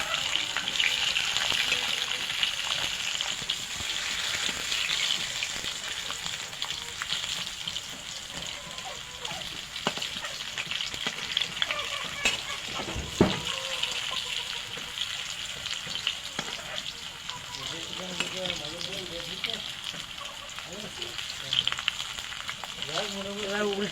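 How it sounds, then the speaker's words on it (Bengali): Radish slices fry in a pan while being turned over, giving a steady, close sizzle throughout with occasional stirring and scraping sounds. "এবার উল্টে পাল্টে এভাবে ভেজে নেব"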